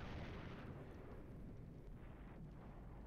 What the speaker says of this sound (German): Jetzt kriegen wir aber hier auch heftig schwere Artillerie ab.